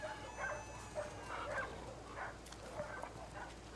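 Bear the dog in The Last of Us Part II lets out several quick, moderately close barks in an uneven rhythm over steady low game ambience, with no one talking.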